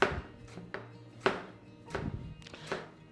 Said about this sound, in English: I can start chopping the tomatoes as well